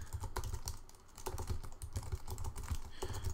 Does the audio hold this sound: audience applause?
no